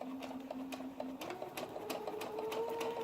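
Sewing machine stitching cotton fabric for a homemade face mask, a close rapid mechanical whir with quick even needle clatter and a steady hum, no talking.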